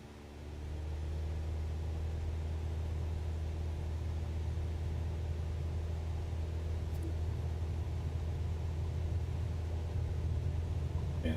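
Cessna 172 single-engine light aircraft at full power for takeoff from runway 25 at Northolt in Microsoft Flight Simulator, a steady droning engine hum that swells in the first second and then holds loud and constant.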